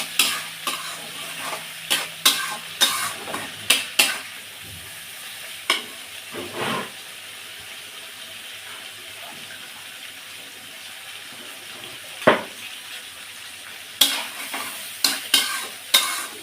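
Spices sauté in oil for a tilapia curry, with bursts of rapid spoon-scraping stirring at the start and end and a softer sizzle between them.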